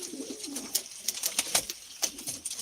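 Pigeons and young squabs kept for sale give soft, repeated coos and small calls at close range, several birds overlapping, with no voices.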